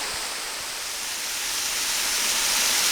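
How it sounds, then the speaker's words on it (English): Steady, dense rush of a creek tumbling over rocks at Tise Falls, Hanging Rock State Park, North Carolina, a constant broadband roar that swells slightly toward the end, with no voices. "the creek flows right down through these rocks"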